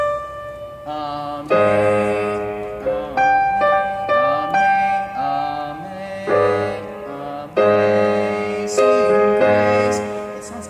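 Piano notes played in the wrong key give a clashing, dissonant chord sound, in several loud phrases with no voices.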